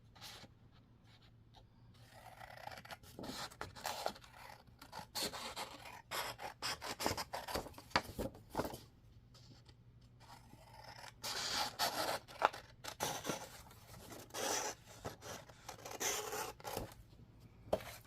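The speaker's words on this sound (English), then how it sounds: "I know somebody's going to come at me for using fabric scissors for paper" Fabric scissors slicing through paper, a run of crisp rasping snips in steady bursts close up, with no talking.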